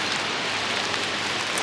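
Steady rain in Montreal, with wind, hisses and patters on a surface, a continuous dense wash of drops, close and fairly loud, with no voices.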